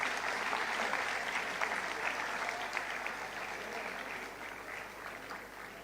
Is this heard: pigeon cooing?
no